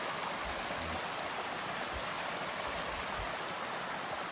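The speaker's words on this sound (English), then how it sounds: "We literally have a waterfall in our backyard." A backyard waterfall pours down a hillside after heavy rain, making a steady, dense, unbroken rush of water that is loud and close and continues for the whole stretch with no voices.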